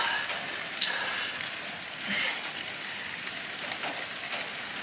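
Rain falls steadily on a surface, a constant close patter and hiss with occasional louder drops, heard on its own without talk.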